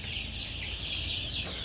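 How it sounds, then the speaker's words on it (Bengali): Thirteen-day-old tiger breed chicken chicks make faint, thin peeping calls in a brief stretch against low background noise, with no voices. "দেখতে পাচ্ছেন আমাদের টাইগার মুরগির বাচ্চাগুলো"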